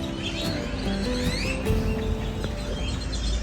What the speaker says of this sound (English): Listen to all the birds chirp.